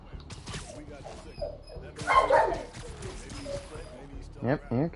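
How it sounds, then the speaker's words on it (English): A dog outdoors barks and yips in short bursts with whimpering between, heard at a distance under steady indoor talk and game audio. "Yep, you can definitely hear my dog outside."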